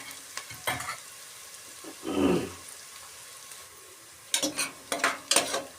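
Onions cooking in oil for gavar dhokla, with a soft low sizzle under irregular spatula scrapes and bursts of stirring, a louder rumbling stir in the middle and a quick run of clatters near the end.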